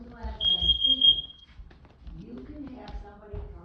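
A carbon monoxide alarm gives a test beep, a single piercing tone held for about a second, followed by people talking nearby.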